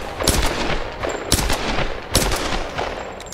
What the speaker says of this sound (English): I need so many shots with a normal pistol.